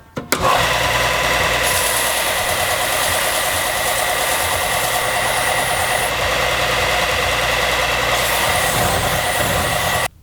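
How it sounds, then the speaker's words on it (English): A belt sander runs steadily and loudly, flattening a micarta knife handle blank, with a continuous whine and grinding hum that holds for about ten seconds before cutting off. "now we'll just clean it up on the belt sander real quick."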